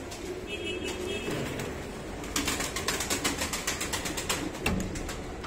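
Pigeons coo and murmur steadily in a crowded loft's male section, with a flurry of wing flaps and fluttering near the middle and a busy, crowded bird room ambience throughout.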